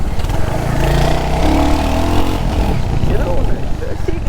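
A Royal Enfield Hunter 350 motorcycle accelerates close by, its engine note climbing in pitch with a throbbing single-cylinder rumble and some mechanical clatter, while a rider's voice is heard over the engine.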